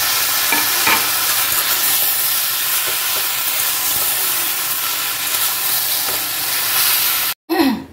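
Eggplant and fish oil fry in a pan with a loud, continuous close hiss and sizzle and a few faint stirring knocks, broken by a brief cut near the end.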